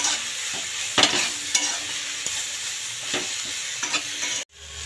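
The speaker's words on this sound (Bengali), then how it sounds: "স্বাদ মতো লবণ দিয়ে দেব আর এখানে দিয়ে দেব হলুদ গুঁড়ো, দিয়ে নাড়িয়ে দেব।" Vegetables and greens fry in a pan with salt and turmeric while a spatula stirs them, making a continuous sizzle broken by a few scraping strokes before the sound cuts off abruptly near the end.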